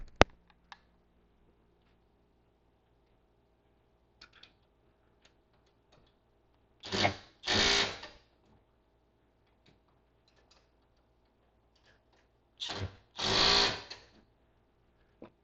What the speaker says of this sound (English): I'm just going to tighten this down